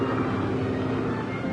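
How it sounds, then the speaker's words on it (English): A propeller airplane drones steadily overhead in a naval base setting from an old radio serial, a continuous engine rumble that holds at a constant loudness with no talk over it. "A plane."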